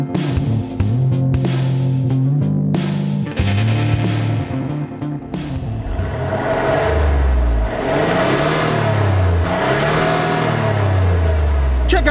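Land Rover Discovery with a 3-liter turbo diesel climbing a steep off-road hill over tree roots: the engine revs up and down in repeated rising and falling sweeps, loud and close, with no talking.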